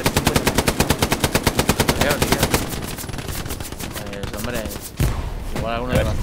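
Rapid automatic gunfire from a tank in the World War II video game Hell Let Loose, a fast loud rattle of shots that thins into scattered bursts while someone talks over it.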